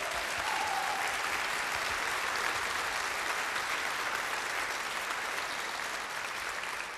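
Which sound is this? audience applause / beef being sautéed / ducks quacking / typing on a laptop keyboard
audience applause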